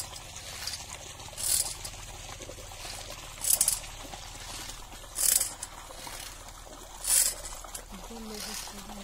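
A hand-pumped pesticide sprayer in a paddy field makes four evenly spaced bursts of hissing spray. A liquid trickles faintly between them.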